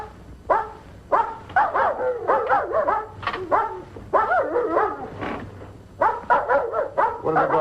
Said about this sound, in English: What are they barking about?